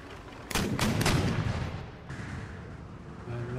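Cannon fire from a Bavarian army's artillery battery in Empire Total War: a few heavy booming shots in quick succession, then a rumbling battlefield din that slowly fades, fairly loud with no talking.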